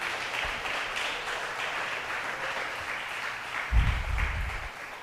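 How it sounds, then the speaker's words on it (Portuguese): Congregation applauding during a church worship service, a steady wash of clapping through the whole stretch with a brief louder swell near the end. "Você pode aplaudir ao Senhor?"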